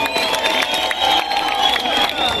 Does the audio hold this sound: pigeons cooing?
no